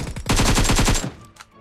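A rapid burst of about ten loud automatic gunshots comes in quick even succession in PUBG Mobile, followed by a trailing echo and one fainter shot.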